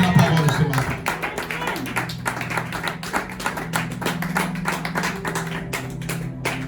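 A church congregation claps together in a steady rhythmic burst, dense and close, with a voice over it at the start and the clapping thinning out toward the end.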